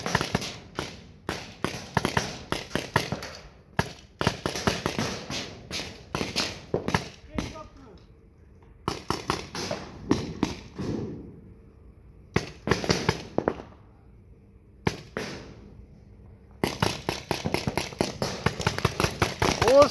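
Paintball guns fire during a paintball game in rapid bursts of sharp cracks and snaps, pausing briefly between volleys, while people call out and talk in between.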